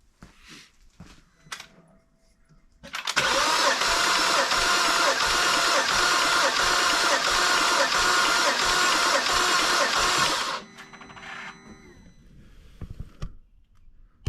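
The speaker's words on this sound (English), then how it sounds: "we're gonna do the initial crank of the engine to get the oil primed in the system" A BMW N55 engine cranks on the starter for an initial compression check, a loud, even, rapidly pulsing whir that runs steadily for about seven seconds before cutting off.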